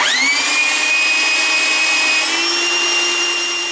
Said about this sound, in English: this belt sander will do a very, very quick job